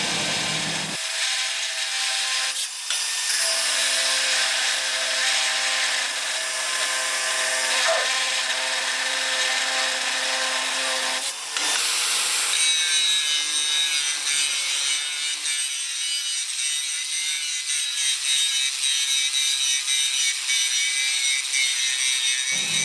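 A DeWalt FLEXVOLT 54V brushless 125 mm cordless angle grinder (DCG414) cuts through rebar, making a loud, sustained, harsh high whine and grind that continues for the whole stretch, broken by two brief pauses.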